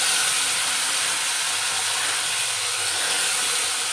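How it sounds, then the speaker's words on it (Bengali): Potatoes and onions frying in hot oil make a loud, even, hissing sizzle that holds steady and close for the whole stretch, with no voices. "আলু পেঁয়াজটা ভালো করে ভেজে নিচ্ছি"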